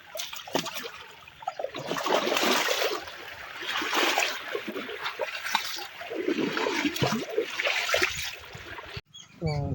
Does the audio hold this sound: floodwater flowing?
yes